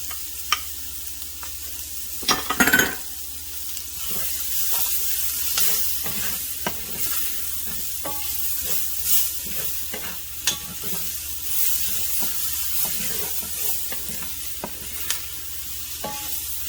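Two cloves of sliced garlic sizzle steadily in a hot pan, a continuous close frying hiss broken by scraping stirs and occasional sharper clinks of the utensil against the pan.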